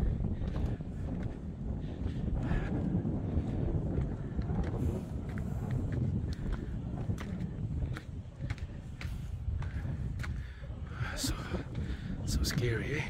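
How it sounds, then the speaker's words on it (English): Strong, steady wind on the summit of Coronet Peak, Queenstown, New Zealand, buffets the microphone with a constant low roar, with occasional crackles and brief gusts throughout. "so windy and so cold"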